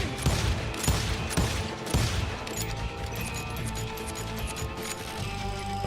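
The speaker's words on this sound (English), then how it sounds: "They're shooting in the street!" Rapid gunfire crackles through a busy Old West street shootout in the video game Call of Juarez Gunslinger, with sharp bursts of shots from a revolver and a shotgun over a dense, loud wash of game noise and music.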